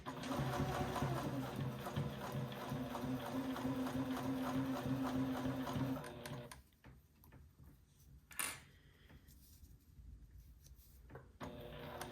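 A sewing machine runs in a steady rapid stitching rhythm for several seconds, then stops, leaving faint handling clicks and a sharp tap.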